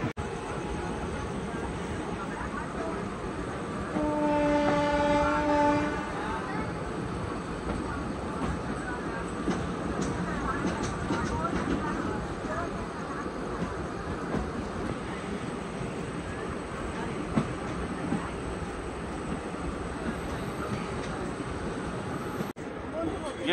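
Passenger train arriving at Haldwani, a steady low rumble and rolling rattle heard from on board, with a brief tonal horn or whistle early on and faint voices in the background.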